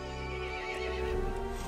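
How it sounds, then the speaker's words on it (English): A horse in the video game Resident Evil Village gives a drawn-out whinny with a wavering tone over a low droning backdrop, close and fairly quiet, lasting under two seconds. "The horse grew angry and summoned the other monsters."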